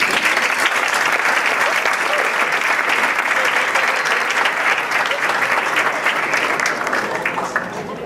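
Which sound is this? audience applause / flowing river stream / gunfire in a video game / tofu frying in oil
audience applause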